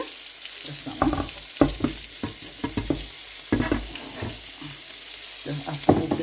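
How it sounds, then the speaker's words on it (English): Salmon goes into a hot pot with butter, garlic and ginger, giving a crackling sizzle broken by clattering stirs and scrapes of a utensil, fairly close and busy throughout. "So now we're going to add our lax into the pot."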